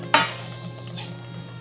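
Fried lentil dumplings (bori) lifted out of hot oil in a pan: one sharp clink of a utensil against the pan, followed by a faint, steady sizzle and some soft scraping.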